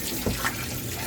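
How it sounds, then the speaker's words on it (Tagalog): Laundry being rinsed by hand in a basin of water at home: soft sloshing and splashing with a couple of brief louder swishes, fairly close, with no talking. "Babanlawan ko lang siya kasi para hindi bumaho."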